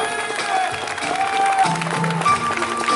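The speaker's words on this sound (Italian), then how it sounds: "Un applauso a Davide ed Emilia." Audience applause at an outdoor evening show in a small piazza in Ruvo di Puglia, a steady crowd clapping for about three seconds with music and voices blending in underneath.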